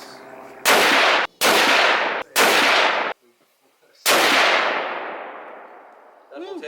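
Close, sharp rifle gunshots from a 30-06 fired at a range table, three loud cracks in quick succession, a short pause, then a fourth blast with a long ringing decay, a voice starting at the very end.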